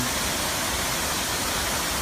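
A waterfall at a spa and resort pours heavily after a full day of rain, a dense, steady rushing roar that continues unbroken with no voices.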